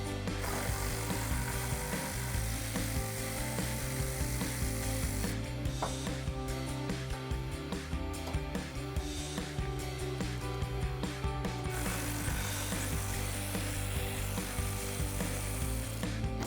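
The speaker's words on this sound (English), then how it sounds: "I'm going to use the same 12mm socket to remove them." Rapid ratcheting clicks of a ratchet with a 12mm socket turning bolts loose on a 2016-2023 Toyota Tacoma rear bumper, a continuous close mechanical rattle with short bursts and brief shifts in rhythm.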